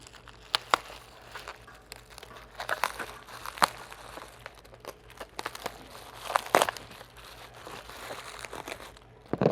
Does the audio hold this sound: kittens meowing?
no